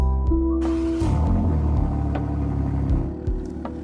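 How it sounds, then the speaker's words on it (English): BMW M3 G80 in a video game starting up with a rising whir, then settling into a steady, rumbling idle with a couple of light blips near the end, loud and alone. "Let's jump into the BMW and let's give it a sound check and a bit of a rev."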